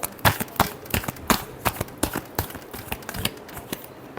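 Tarot cards are shuffled by hand in quick, crisp riffles and flicks that repeat at an uneven pace, close and fairly soft, with no talking.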